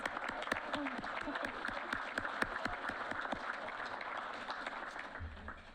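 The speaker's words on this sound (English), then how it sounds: "Let's give it another round of applause." Audience applause at a Jet award ceremony, a modest scattering of distinct claps heard somewhat distant and quiet, thinning out toward the end as a low rumble enters.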